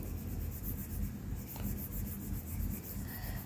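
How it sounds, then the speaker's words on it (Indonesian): Writing is rubbed off a board with steady back-and-forth scrubbing strokes, a faint, soft, dry friction sound heard close and alone. "Ini saya hapus terlebih dahulu"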